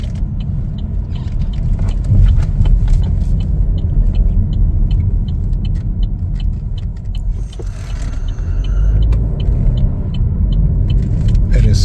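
A 2025 Chevrolet Trailblazer AWD LT drives on a road, heard from inside the cabin as a steady low engine and road rumble with faint mechanical clicks, while the driver talks over it.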